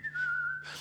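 A person whistles one brief, sliding note, close and clear, lasting under a second.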